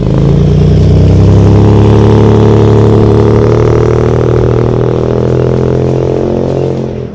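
A turbocharged Nissan Gloria V.I.P. sedan with an aftermarket intercooler and a loud blow-off valve revs hard up close, its deep engine roar loud and sustained, then easing off slightly at the end, with no talking.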